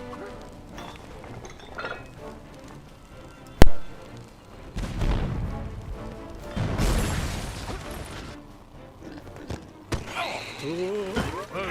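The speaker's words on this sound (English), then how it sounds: "Then you're gonna have to get a torch after the cannon is built, and shoot at the mermaid." Cannon fire in the LEGO Pirates of the Caribbean video game, London Town chapter: a sharp loud boom near the middle of the clip, followed by crashing and rumbling game effects, with music underneath.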